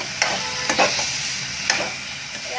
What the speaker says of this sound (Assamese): এতিয়া এয়া দি ভালদৰে লৰাই দিম